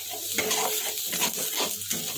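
Spice paste of ground chilli and turmeric sautéed with water in a pan for a Bengali dish, a steady close sizzle broken by stirring scrapes and light clinks of utensil on pan.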